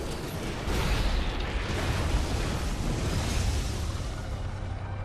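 A unit called an Eradicator is destroyed in the StarCraft 2 video game, Heart of the Swarm campaign, giving a loud, sustained explosive roar with dense rumbling that keeps going throughout.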